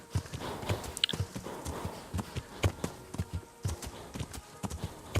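Horse hooves clip-clop in the medieval game Kingdom Come: Deliverance, a steady walking rhythm of crisp, close hoof strikes with light ambient sound between them.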